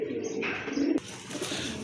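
A large Gordan pigeon, part of a breeding pair, gives low repeated coos close by, with a brief rustle partway through and no talking.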